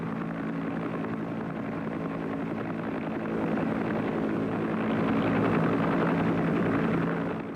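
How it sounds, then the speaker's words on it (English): A Huey Cobra helicopter gunship flies overhead, a steady droning rotor and engine roar that grows slightly louder as it draws nearer, with no voices. "The most effective helicopter gunship in American service was the Huey Cobra."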